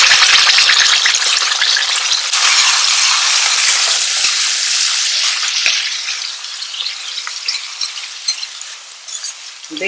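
Ground masala paste sizzles and fries loudly in hot oil for a restaurant-style kara kuzhambu. A dense, steady crackle is strongest at first and then gradually thins and softens, with a few scattered pops and clinks near the end.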